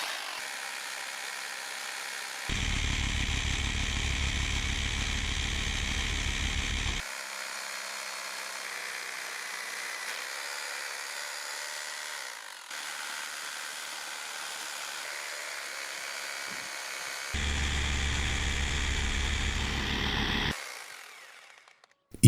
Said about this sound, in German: dafür werde ich jetzt noch etwas tiefer bohren mit einem 14 mm Mauerdurchbruchsbohrer